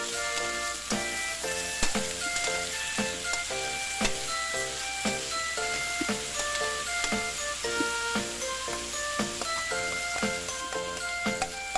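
Chicken for adobo frying and sizzling in its own rendered fat, with a steady hiss and a regular rhythm of spoon clinks while it is stirred. Faint tinkling tones run underneath.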